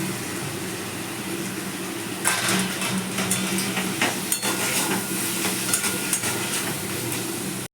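Spiced chicken filling sautéed in a pan, a steady close sizzle with scraping stirs that grow busier after the first couple of seconds, no voices.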